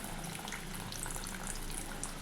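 Sugar syrup boils in a pan with milk added, a soft, continuous bubbling and hissing that stays faint and even throughout, with no talking.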